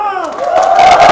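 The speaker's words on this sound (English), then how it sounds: "Listen to the crowd as this Nineball disappears for the title." A pool hall crowd at the final of the 2023 Peri 9-Ball Open erupts in loud cheering and shouts as the nine-ball is potted for the title, a short, swelling roar close to the microphone.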